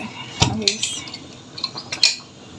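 Metal pressure cooker whistle fitted onto the lid in a home kitchen while rice cooks: a few close, light metallic clicks and taps, separate and irregular, with no talking.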